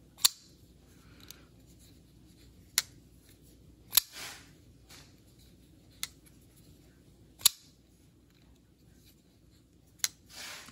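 The action of a DM Designs Yokai knife clicks sharply as the blade opens and closes, with about eight crisp snaps spread across a quiet background at uneven intervals.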